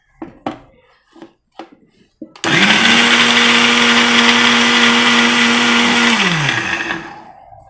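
A kitchen mixer grinder grinds coconut in its jar, starting abruptly with a loud steady whir that holds for several seconds, then winds down and stops; brief clatters and handling sounds come before it starts.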